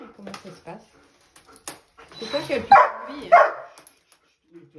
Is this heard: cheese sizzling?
no